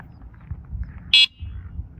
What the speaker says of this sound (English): Let's see if I can do the horn here.